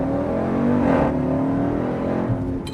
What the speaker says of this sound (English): Apply full throttle and launch.